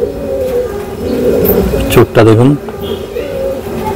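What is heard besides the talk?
pigeon cooing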